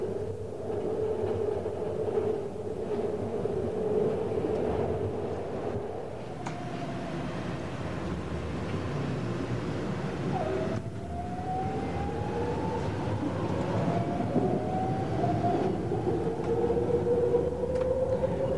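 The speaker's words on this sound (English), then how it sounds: "We are now descending into the Berkeley subway at the city limit" A BART subway train rumbles steadily through the Berkeley subway tunnel, with a rising and falling electric whine over the deep continuous roar of wheels on track.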